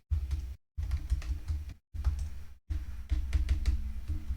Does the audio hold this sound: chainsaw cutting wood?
no